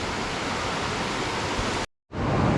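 Steady loud rush of a river at a backpacking trail crossing on the Timberline Trail, broadband and continuous, briefly cut to silence before resuming.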